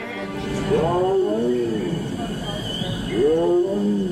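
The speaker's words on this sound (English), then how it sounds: "visitors can get a close-up view of Siberian tigers in their natural setting" Siberian tigers roar and growl at the Bronx Zoo's Tiger Mountain exhibit, two deep, rising-and-falling roars in a row over a steady outdoor background hum.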